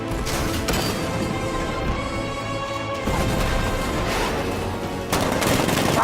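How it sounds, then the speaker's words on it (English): The Batwing's 60mm cannon fires in sustained rapid bursts in Batman: Arkham Origins, loud continuous gunfire with two brief breaks between volleys. "60mm cannon operational."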